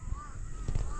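A crow cawing outdoors near a vegetable garden, a few short harsh calls over background noise and faint voices.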